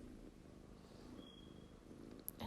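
A cat purrs softly and close by indoors, a low continuous rumble with faint background sounds and a brief sharp noise near the end.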